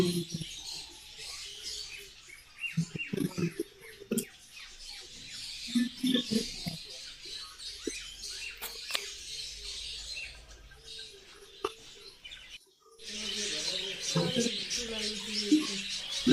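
Rainbow budgerigars at a bird farm let out scattered high chirps and twitters, faint and intermittent, growing busier near the end, with quiet voices around them.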